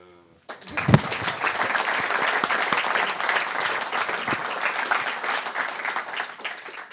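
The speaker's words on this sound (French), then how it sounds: "On peut déjà applaudir" After a quiet moment, a lecture audience bursts into sustained applause, dense and steady clapping that holds for several seconds before easing slightly.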